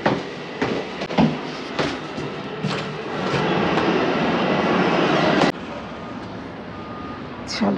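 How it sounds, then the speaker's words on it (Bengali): A New York train rumbles with a broad, steady roar that swells through the middle and then cuts off sharply, with a voice and scattered clatter around it. "দৌড়ে ট্রেনে উঠবো।"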